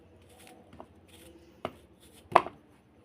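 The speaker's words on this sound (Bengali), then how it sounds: "এবার আমি আপেলের ছালটা কিন্তু ফেলে দেবো। দিয়ে এখানে কিন্তু ছোটো ছোটো করে আমি কেটে নেবো।" Knife chopping a peeled apple into small pieces on a board for a fruit cake, a few scattered soft cuts then two sharper, louder chops near the end, with no talking.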